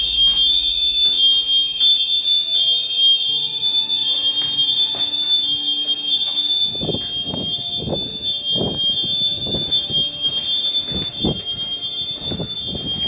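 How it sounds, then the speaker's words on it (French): An alarm rings in the basement of an abandoned 2004 Olympic stadium, a steady high-pitched electronic tone that holds throughout. Dull knocks or footsteps join it in the second half. "Ces alarmes sont horribles en bas."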